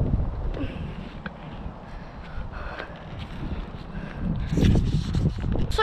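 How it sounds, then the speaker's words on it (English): Strong wind buffets a microphone outdoors on a very windy day in Suffolk, a continuous low rumbling roar that swells louder toward the end. "That's just the wind, because it's like super windy today"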